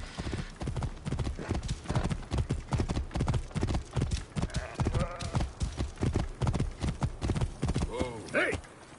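Horses gallop in a video game, a fast, continuous thudding of hooves close by, with a horse whinnying near the end and voices shouting over the ride.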